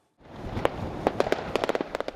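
Fireworks going off at a New Year's celebration, a rapid string of sharp cracks and pops over a hissing, crackling background, growing denser toward the end.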